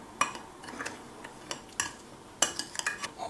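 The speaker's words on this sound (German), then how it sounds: "Das Ganze vermischen wir ein bisschen." Cutlery clinking and scraping against a bowl while ingredients are stirred together for arme Ritter (French toast), a series of sharp, close taps and chinks at an irregular pace.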